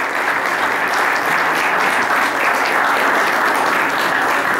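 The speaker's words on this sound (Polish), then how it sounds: "gorące brawa dla mistrza świata i mistrza Europy" Audience applause at an award ceremony honoring a world and European wrestling champion, a dense, loud, continuous wash of clapping from a large crowd.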